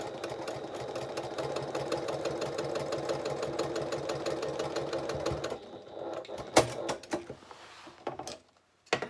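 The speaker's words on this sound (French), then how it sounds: "j'ai oublié de coudre le côté de la doublure du fond" Sewing machine running steadily as it stitches the side seam of a bag lining, a continuous fast mechanical whir that stops partway, followed by a few clicks and handling knocks.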